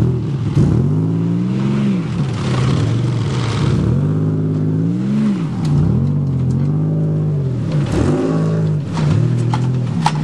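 A battered Buick 3.8 engine from a demolition derby runs up close and loud, cycling through repeated revs that rise and fall in a rough, rhythmic wail.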